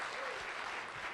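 A seminar audience keeps clapping in a faint, far-off, even roar of many hands, steady and unbroken throughout.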